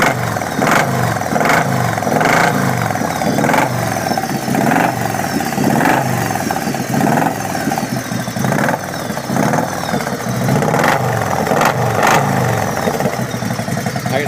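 A 1997 Harley Davidson Road King motorcycle engine rumbles loud and close with a deep, lumpy, uneven beat, swelling in repeated revs and easing back toward idle in between.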